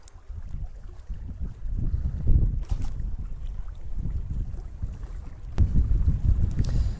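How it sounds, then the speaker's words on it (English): A strong side wind blows across the microphone on a seashore during early-morning summer float fishing for mackerel, giving a steady low buffeting rumble that swells in gusts. "Actually, this side wind is stronger than I thought."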